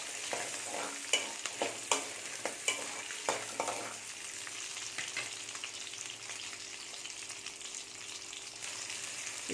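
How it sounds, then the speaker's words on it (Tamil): Small onions and garlic sauté in oil for a brinjal and chickpea kuzhambu, a steady close sizzle with a few scraping stirs near the start that fade into continuous frying hiss. "சின்ன வெங்காயம், பூண்டு ரெண்டையுமே போட்டு நல்லா வதக்கிக்கணும்."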